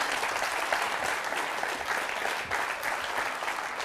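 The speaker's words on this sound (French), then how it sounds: "On peut les applaudir très très fort." Studio audience on a French television show applauds loudly and steadily, a dense wash of clapping that fills the whole moment without pause.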